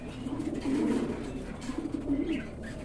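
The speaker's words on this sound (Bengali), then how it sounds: "এখানে কিন্তু আরেক জোড়া অস্ট্রেলিয়ান ঘুঘু আছে" An Australian dove coos nearby in two low, soft rolling phrases, alone without talk.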